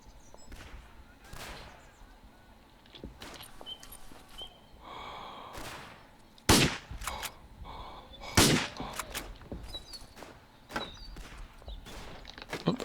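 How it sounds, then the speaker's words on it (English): World War I rifle fire in the Verdun game, scattered sharp cracks near and far breaking through shuffling movement and heavy breathing, with two especially loud shots standing out. "Oh, I'm being shot at now"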